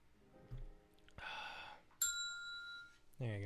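A bright bell ding rings out once with a sustained tone, amid quiet room sounds and brief sighs or murmurs before it.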